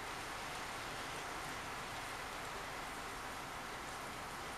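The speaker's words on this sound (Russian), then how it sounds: "Дождь идет за окном." Rain falls outside a window as a faint, even hiss that holds steady throughout, with no other distinct sounds.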